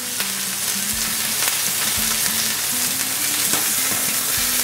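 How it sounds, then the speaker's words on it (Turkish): Meat searing in a hot pan for a Gaziantep-style quince stew, giving a loud, steady, close-up sizzle with crackling spatter that runs the whole time without any talk. "Etin suyunu kaybetmemesi için bu mühürleme işlemini yapıyorum."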